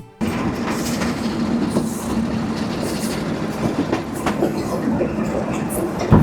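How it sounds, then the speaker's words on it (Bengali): A local train rumbling along the rails between Lalmonirhat and Burimari, heard from the front of the locomotive, with a steady rhythmic clatter, loud and close, and occasional metallic squeals. "আজ আমি কিছু কাকাদের সঙ্গে ট্রেনের ইঞ্জিনের সামনে বসে ভ্রমণ করছি"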